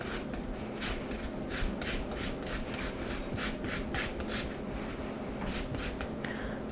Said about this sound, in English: Just using a nice little microplane zester here.